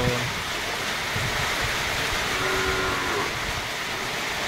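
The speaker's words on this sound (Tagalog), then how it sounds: "bumuhos na naman lakas sa ulan o" Heavy rain pours down steadily at a rural farm, a dense, even hiss of water on surfaces that fills the scene, with faint voices and a low animal call buried underneath.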